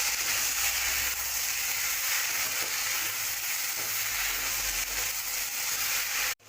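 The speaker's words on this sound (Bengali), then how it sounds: "চালটাকে দিয়ে ভালো করে ভেজে নিতে হবে।" Rice frying with vegetables in a pan for matar pulao, a steady, loud broadband sizzle with occasional faint stirring, continuous throughout and cutting off at the very end.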